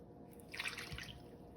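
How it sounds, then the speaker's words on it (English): Melted butter poured from a container into a medium bowl holding two cups of sugar, a short soft liquid drip and splash lasting under two seconds, close and quiet, with no talking. "Take the butter, pour it all in."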